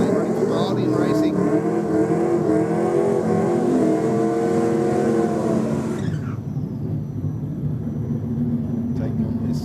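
Drag racing car at Sydney Dragway roaring loudly under an announcer's voice, the engine note holding steady then cutting off sharply partway through, leaving the announcer talking over quieter track noise.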